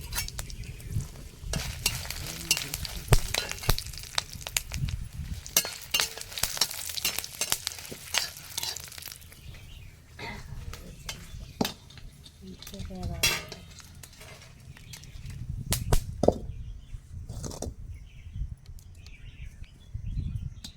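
Dried red chillies and gongura leaves frying in peanut oil in a home kitchen, with a steady sizzle and stirring scrapes, louder in the first half and then easing, occasional utensil clinks and a faint bird in the background.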